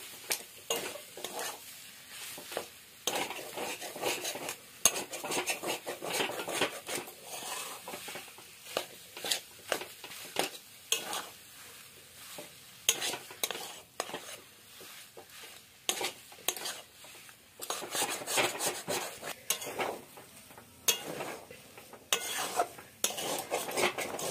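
Potato being stirred and mashed into a chicken chop filling in a pan, with steady scraping of a spoon or spatula against metal, dense irregular strokes throughout, close and moderately loud, no talking.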